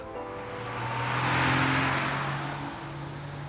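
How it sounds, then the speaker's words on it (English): A company car pulls away from a house in 1986, its engine swelling in a smooth rising-and-falling drone that peaks midway and then recedes. "Just after 8:30, Suzy set off for work in her company car."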